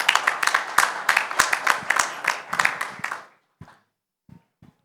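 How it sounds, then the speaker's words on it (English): Conference audience applauding the host at an arbitration event, a few seconds of clear rhythmic clapping from a modest group, then an abrupt fade to near silence with only a couple of stray late claps. "Can I please have a huge round of applause for our host today?"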